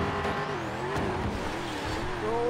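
A modded Mustang muscle car in a roleplay driving game roars at full volume, its engine howling and shifting pitch steadily with a hint of tire squeal throughout.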